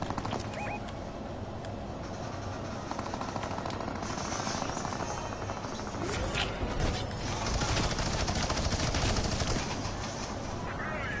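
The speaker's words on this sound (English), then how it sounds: "Is he actually shooting the helicopter?" Rapid gunfire from the video game Fortnite rattles continuously in dense bursts, with players chatting faintly over the shooting.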